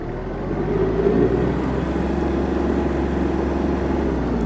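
A Kubota T-240 mini tractor drives along with a steady, close engine drone and low rumble that holds at an even level throughout.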